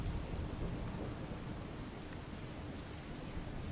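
Steady rain shower pouring over the eastern part of Ahmedabad, a dense, even hiss of falling water with a low rumble beneath, continuous and unbroken throughout with no voices.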